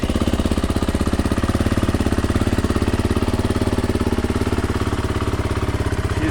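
A 2022 Beta 430 RR-S motorcycle engine running just after its first start, a loud close steady pulsing idle with a rapid even firing rhythm throughout, no voices.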